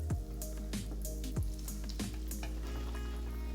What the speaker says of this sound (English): I'm going to gently place it into the fryer